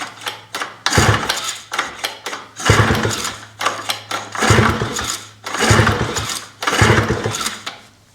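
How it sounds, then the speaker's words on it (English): Repeated pull-start attempts on a Suzuki LT80 quad engine: five or six bursts of rough mechanical rattling and brief coughing turnover, each a second or so long, separated by short pauses, close and fairly loud, without the engine catching. "let's try to do a test run with just the pull start"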